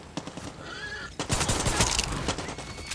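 A horse in Far Cry 6 whinnies briefly amid a burst of rapid gunfire, with shots crackling loudly over the neigh.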